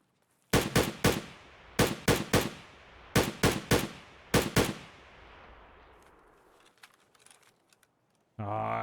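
Shotgun fire in the video game Escape From Tarkov: about a dozen loud, sharp blasts in four quick bursts of three, each ringing out briefly, followed by faint clicks and rustles and a sudden burst of noise at the end.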